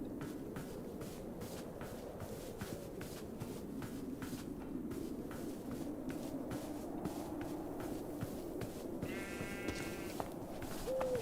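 Sheep bleat in the Minecraft video game, with a short, clear bleat near the end over steady, rhythmic in-game background noise.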